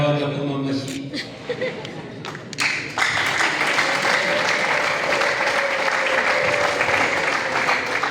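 Audience applause at a wedding reception, a broad steady wash of clapping that swells after a few seconds and carries on evenly, with voices and some chuckling mixed in at the start.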